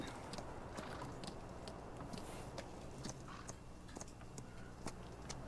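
A horse's hooves clip-clop in steady, fairly quick beats while it is ridden in the Farming Simulator 19 video game, crisp and close over a low background hum.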